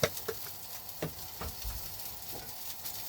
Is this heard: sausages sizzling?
yes